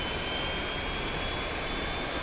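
Steady, loud roar of an F-4B Phantom jet engine spooling toward idle during a carrier cold start in the DCS flight simulator, a dense continuous whine and rumble with no talking.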